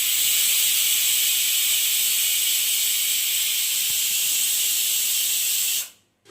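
A pressure cooker vents steam in a loud, continuous hiss close by. The hiss holds steady for about six seconds, then cuts off abruptly.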